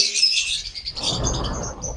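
Adult pet birds kept for sale chirp in a quick burst of high, close tweets, then give way to a rougher rustling noise for the rest of the moment, with no talking.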